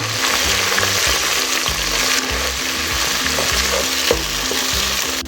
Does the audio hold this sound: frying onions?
yes